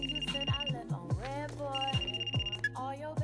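A telephone rings in a scene from the animated TV series Invincible, repeating trilling bursts heard through background music and effects at moderate volume.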